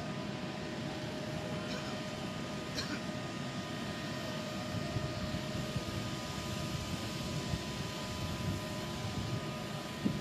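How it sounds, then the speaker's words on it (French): Steady airport roar of an aircraft at Kisangani airport as the president's plane arrives, a continuous broadband engine rumble with a couple of faint brief clicks, no distinct voices. "Aéroport de Kisangani."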